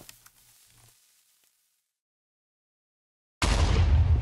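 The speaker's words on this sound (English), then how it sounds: "Wow, that explosion is so cool." TNT blowing up in the Minecraft video game: after a few faint sounds and near silence, a sudden loud blast erupts and keeps roaring and rumbling to the end.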